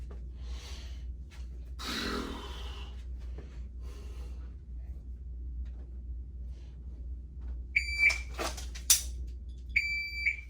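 Beeps from a shot timer during a dry fire drill arrive near the end as short, high electronic tones, with quiet breathing and faint rustling over a low steady hum before them.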